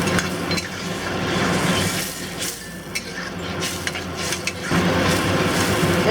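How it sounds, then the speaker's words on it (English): Shrimp and soft tofu are stirred gently in a wok with oyster sauce and Shaoxing wine, giving soft scraping and clinking over a steady sizzle, close up and moderately loud. "And stir it very gently."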